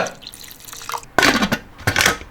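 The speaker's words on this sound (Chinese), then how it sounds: "来点料酒" Cooking wine splashed into a pot of boiling water holding pork intestines with ginger, scallion and Sichuan peppercorns, heard as two short close pours over a faint watery background.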